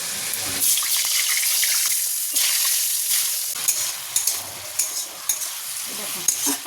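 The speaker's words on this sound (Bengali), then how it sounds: "এবার এর মধ্যে আমি আলুগুলো ভেজে নেব।" Potatoes frying in a wok with turmeric and salt, a close, bright sizzle broken by scraping stirs and sharper clattering strokes in the second half.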